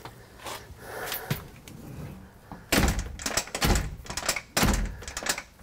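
Aluminum storm door swinging shut during a DIY replacement install, giving two or three solid thunks and slams a couple of seconds apart, fairly close and loud, with faint handling noise before them.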